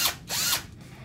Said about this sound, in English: Yes, I know it's a drill bit.